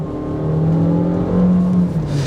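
A 2020 Fiat 500X with a 9-speed automatic pulls away under acceleration, its engine droning steadily from inside the cabin, the pitch rising slowly and then easing as a shift comes.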